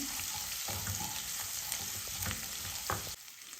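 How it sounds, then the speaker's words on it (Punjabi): Cumin, finely chopped garlic and ginger frying in a pan over medium heat, giving a steady close sizzle with occasional stirring scrapes for under four seconds, no voices. "ਇਸ ਨੂੰ ਮਿਕਸ ਕਰਕੇ ਆਪਾਂ ਮੀਡੀਅਮ ਸੇਕ ਤੇ 2-3 ਮਿੰਟ ਲਈ ਭੁੰਨ ਲਵਾਂਗੇ"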